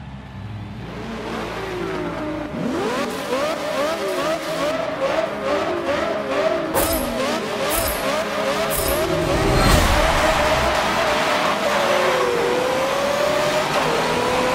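Race cars in Forza 7 at Suzuka, several engines revving and shifting through the gears in a dense, continuous roar with rising and falling pitches as the pack accelerates close by.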